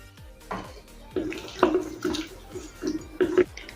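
Water used to rinse a mixer jar is poured into a pan of mixed ingredients for a mourala fish bati chochhori, a few short splashing pours close by with no talk.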